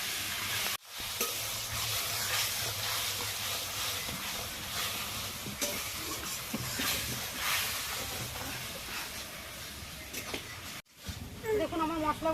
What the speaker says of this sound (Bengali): মশলাটা ভালো করে একটু কষে নেব।